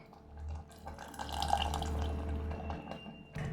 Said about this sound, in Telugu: మొత్తం కొద్దిగా చింతపండు రసం వేసుకోవాలి.